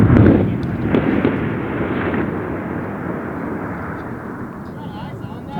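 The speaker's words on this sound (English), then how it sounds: "Just heard gunshots and an explosion coming up from the valley below us" A distant explosion booms and rolls as a long echo up from a valley below during a combat deployment in Afghanistan, fading slowly with no talking over it.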